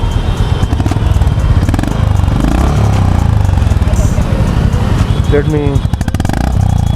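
A Honda CB350 RS motorcycle engine runs close by with a steady, rapid thumping beat, and a voice talks briefly over it.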